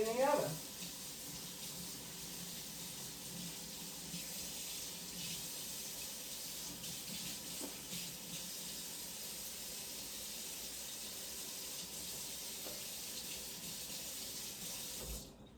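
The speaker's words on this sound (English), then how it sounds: "let me rinse these gloves and take them off." Tap water runs steadily into a kitchen sink as gloves are rinsed, a continuous close hiss and splash lasting throughout before cutting off at the end.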